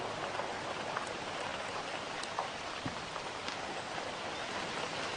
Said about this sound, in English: There is the sound, unfortunately mono, of the rain on the roof.